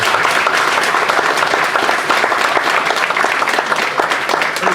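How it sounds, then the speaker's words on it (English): Steady, loud applause fills the room as an audience claps at an all-candidates debate night, dense and continuous throughout. "Ladies and gentlemen, a round of applause for all of our candidates"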